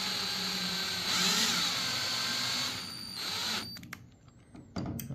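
Screws are driven with a power tool into tight pre-drilled holes in a wooden transom on a Hawkeye outrigger. A loud, steady whirring motor runs close for about three seconds, then drops away into a few shorter bursts and clunks.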